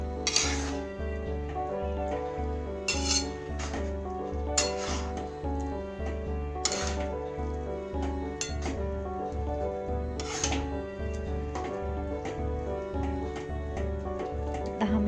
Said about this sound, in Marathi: दूध टाकल्यावरती चांगला हलवून घ्यायचा आहे हलवा